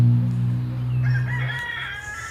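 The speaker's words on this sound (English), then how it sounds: "Look, my chickens." Chickens at a house, with a rooster crowing loudly and close, a long drawn-out call followed by softer clucking and squawks, with no talk over them.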